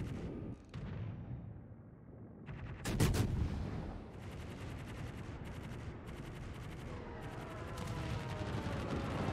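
Anti-aircraft guns firing in World of Warships, a dense rattling barrage of rapid shots with a heavier burst early on, continuing steadily over a rumbling battle background.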